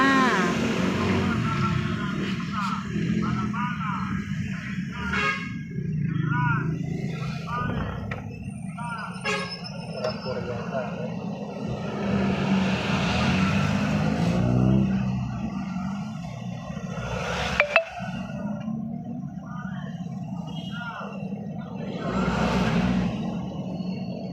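Road traffic on a street in Lemery, with cars and SUVs rolling past in a steady, continuous wash of engine and tire noise. People talk throughout over it.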